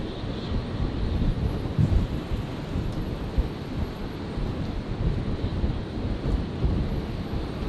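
Qantas Link airliner pulling up to its stand at Brisbane International Airport, a low rumbling engine noise mixed with wind buffeting on the microphone, steady throughout with no talk.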